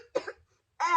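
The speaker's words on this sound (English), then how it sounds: "By the way, I have a cough." A single person coughs at close range: a harsh burst of coughing, a short pause, then a rougher voiced hack, with no talk around it.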